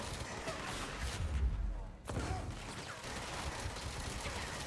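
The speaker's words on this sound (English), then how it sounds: "Hey, stop shooting at me!" Dense, sustained gunfire from the video game Control, a continuous crackling barrage with one sharp louder burst near the middle, steady throughout.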